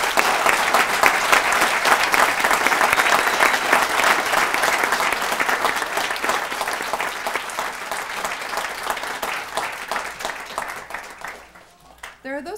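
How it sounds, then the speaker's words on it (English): Sustained applause from a crowd greeting new citizens at a naturalization ceremony at Bandelier National Monument, steady and dense, then thinning out and fading near the end. "Now let's give another round of applause to our newest citizens"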